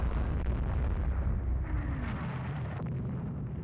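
Torpedo hits explode against warships in the naval strategy game Rule the Waves 2, heard as a heavy, rumbling blast that rolls on and slowly fades over a few seconds with no speech.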